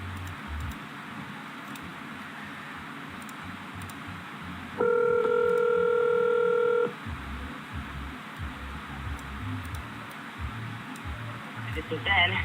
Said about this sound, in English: See, we get Mr. Benjamin on the phone.